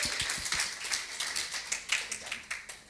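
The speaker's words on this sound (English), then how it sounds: "so give them a huge round of applause." A small crowd claps and applauds steadily, close by, with scattered individual claps standing out.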